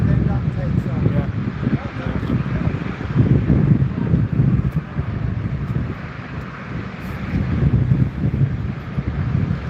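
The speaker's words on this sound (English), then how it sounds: "Plane just coming in on final now" An airplane on final approach at Newcastle Airport in crosswind conditions, a broad, steady engine rumble heard from a distance under gusty wind buffeting the microphone.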